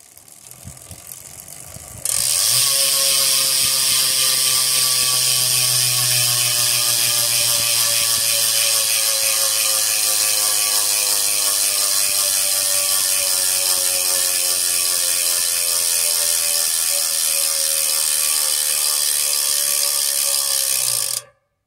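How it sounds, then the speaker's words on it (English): The freehub ratchet of a Scribe Aero Wide+ 42 D carbon bicycle wheel spins up suddenly into a dense, rapid buzz, running loud and close for many seconds, gradually slowing before cutting off abruptly. "one thing I didn't do on my previous video was a sound check on the Freehub"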